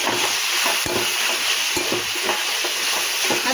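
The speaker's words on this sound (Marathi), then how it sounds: "एकदम पुन्हा छान मिक्स करून घेऊ" Steady sizzle of dhaba-style paneer bhurji masala with tomatoes being stirred and mixed in a hot pan, with a few soft spatula scrapes and knocks. Close and continuous, with no voices.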